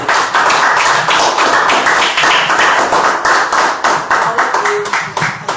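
A church congregation claps in steady rhythm, a loud, dense wash of many hands striking together continuously and close, with a voice faintly underneath.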